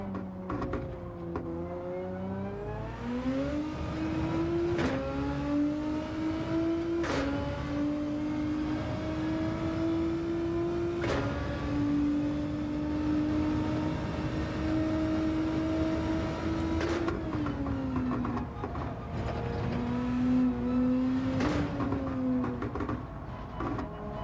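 Nissan GT-R race car engine in Gran Turismo 7, revving up through the gears with sharp upshifts every few seconds, then holding a long sustained high whine before braking and climbing again, loud and close without talk.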